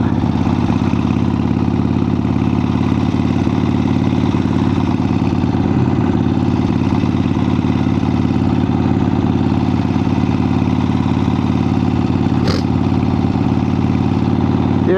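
A 1975 Harley Davidson XLCH motorcycle idles loudly and close by, its engine rumbling and clattering steadily with no speech.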